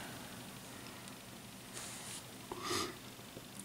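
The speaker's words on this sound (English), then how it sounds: "I'm sorry for my sniffling." Someone sniffles a couple of times while working on miniature diner models in a studio, the short nasal breaths faint and close against a quiet hiss of room noise.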